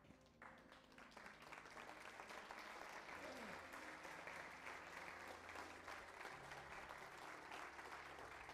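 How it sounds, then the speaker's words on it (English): A standing audience breaks into sustained applause at a 2022 legacy ceremony honouring veterans, a dense steady roar of clapping that holds at full strength throughout, with no talk over it. "why don't you stand and give a round of applause?"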